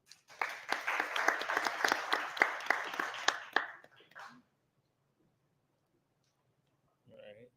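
An audience at a Black media story summit claps for a speaker, a short burst of scattered applause lasting about four seconds before fading to near silence, followed by a brief voice.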